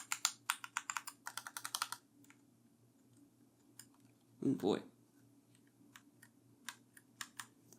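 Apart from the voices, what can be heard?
typing on computer keyboards, Logitech G810 among them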